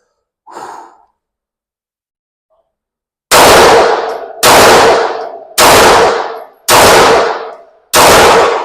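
Five loud, sharp pistol shots fired at a target 25 yards away crack out at roughly one-second intervals, each followed by a brief decaying ring, after a short breath at the start.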